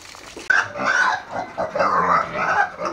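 A sow grunts and snorts repeatedly at close range, loud, rough pig noises with other farm sounds mixed in.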